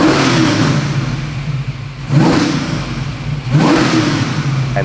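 Supercharged 870 hp 1965 Mustang V8 on a dyno, loud and close, revved hard three times in quick succession, each blip rising sharply and then dropping back, with no speech.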